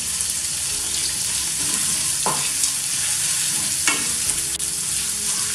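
Eight to ten curry leaves and finely chopped green chili paste fry in hot oil: a loud, steady sizzle broken by a couple of sharp spoon scrapes against the pan, with no voices.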